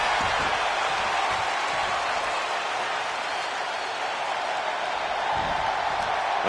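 A virtual wrestling arena crowd in WWE 2K25 roars steadily, a dense, loud wash of cheering that holds without a break throughout.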